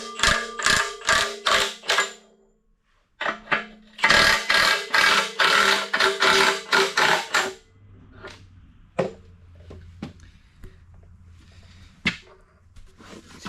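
Mechanical clicking of a wrench loosening bolts on a Ritchie Bros. auction breaker: two loud bursts of rapid ratcheting, then quieter scattered clanks and taps over a low hum.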